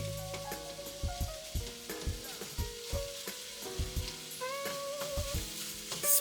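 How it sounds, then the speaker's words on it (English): Ground meat sizzling as it cooks in a pan for spaghetti, a steady, close fry hiss broken by occasional scrapes and knocks, with no talking. "So let it cook in the pan for a minute before you chop it up."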